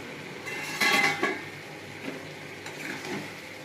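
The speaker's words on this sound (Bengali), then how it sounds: "এবার আমি ঢাকাটা খুলবো" A metal lid comes off a cooking pot with a brief clatter and ring, followed by softer clinks of cookware against a low background hiss.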